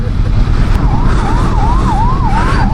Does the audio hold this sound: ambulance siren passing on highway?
yes